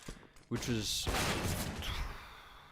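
Rapid burst of gunfire in Counter-Strike as shots hit a player, a sharp volley of cracks followed by a dense crackling spray that fades out, with no talk over it.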